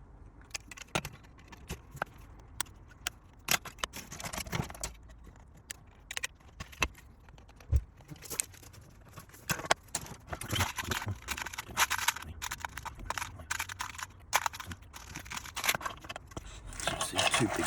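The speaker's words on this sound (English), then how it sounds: "So I've got to cut the gearbox casing out and then attach these to it." Gearbox casing parts for a Tamiya Clod Buster radio-control monster truck are cut from a plastic model kit frame, with many sharp, close snips and clicks at irregular intervals and light scraping and handling in between.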